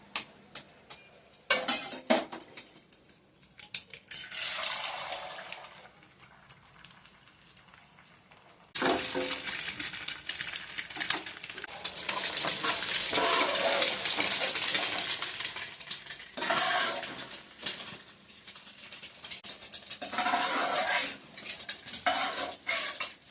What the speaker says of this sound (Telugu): ఎగ్స్ అండి 4 ఎగ్స్ వేస్తున్నాను. ముక్కలు పెద్ద పెద్దగా వచ్చేటట్టు వేయించుకుందాం ఫస్ట్.